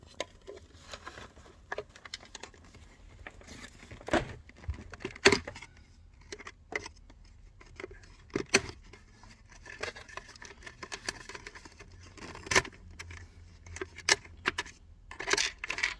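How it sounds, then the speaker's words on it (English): Small metal hinge pin drawn out of a robot mop's broken lid hinge with needle-nose pliers, giving faint scattered clicks and scrapes spread through a quiet stretch. "I'm just going to grab it with the end with my needle nose, and I'm just going to pull it out of there."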